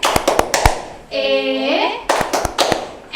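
Rhythmic hand clapping in a children's Sunday school clapping game, several sharp close claps in quick patterns, broken by a sung or chanted voice in the middle before the clapping resumes.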